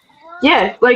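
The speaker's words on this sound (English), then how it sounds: "Is that your cat?" Cat meowing close up, a drawn-out meow followed by a short second one, with a voice speaking at the same moment.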